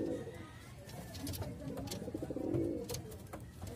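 Blue bar pigeons give soft, low, rolling coos close by, repeating against a faint background with a few light scuffles and no clear speech.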